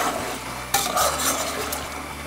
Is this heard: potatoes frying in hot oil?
yes